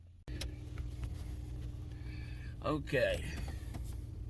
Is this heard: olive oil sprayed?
no